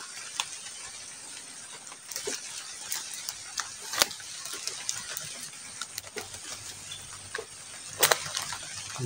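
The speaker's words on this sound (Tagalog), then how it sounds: "lumalakas yung ulan" Heavy rain falling steadily outdoors, a constant hiss with occasional louder splashes and drips.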